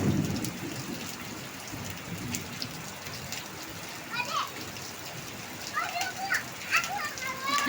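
Heavy rain pouring down at a family home, a dense continuous wash of falling water with faint distant thunder rumbling, and children's voices chattering faintly in the background.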